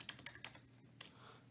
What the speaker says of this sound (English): I should be looking where I'm typing.